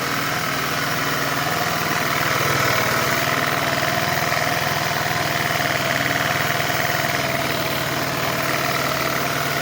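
A Kymco People S 200i scooter with a fuel-system fault that makes it run lean and idle unevenly putters close by, a continuous mid-pitched engine hum with steady vibration and no talk.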